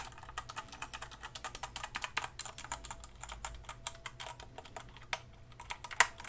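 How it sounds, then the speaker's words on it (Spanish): Rapid, steady keystrokes on a white Redragon Kumara mechanical keyboard with Outemu red switches, recorded close with no talking and a few sharper key strikes near the end. "ASMR de teclado."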